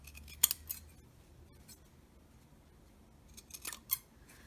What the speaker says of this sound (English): try not to get too close and trim the threads.